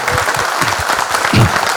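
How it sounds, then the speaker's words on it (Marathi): Audience at a 1999-batch school reunion silver jubilee event applauds for Samarth, a dense burst of clapping that holds steady throughout, with a few voices mixed in. "समर्थासाठी जोरदार टाळ्या वाजूया."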